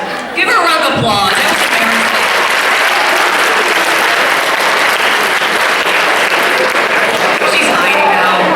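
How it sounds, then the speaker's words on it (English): Audience applause at a youth resilience talk: loud, dense clapping that swells after a brief spoken moment at the start and continues steadily throughout. "Give her a round of applause."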